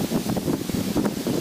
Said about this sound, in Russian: Ребята, поднялся ветер нереальный.